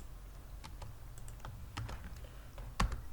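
Someone types code on a computer keyboard to build level-selection logic, with scattered, quiet, close keystrokes, a slightly busier patch in the middle and one sharper key hit near the end, with no speech.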